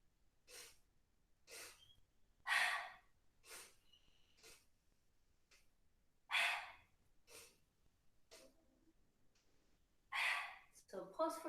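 During a yoga breathing exercise, short sniffing in-breaths through the nose alternate with soft, airy exhalations through the mouth, coming in close, quiet repeated bursts with pauses between.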